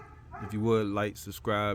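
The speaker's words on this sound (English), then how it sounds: "Excuse the dog noise." A neighbour's dog barks and yips close by, its voice tangled with someone talking over it.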